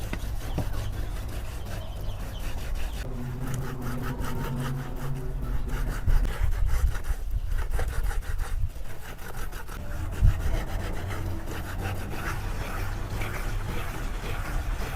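Flesh is scraped from palm fruit with a hand scraper, a steady rhythmic rasping and rubbing, close and continuous, in a rural Cambodian setting.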